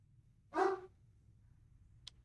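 A single short, close bark from the dog character in the video game Slay the Princess, heard alone against quiet, followed by a faint click.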